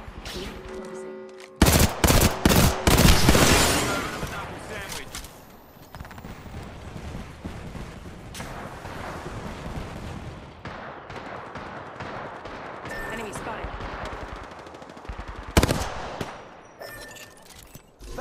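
Rainbow Six Siege gunfire erupts in a dense burst of rapid shots early on, followed by scattered single shots and sustained game noise with footsteps and movement, loud and close.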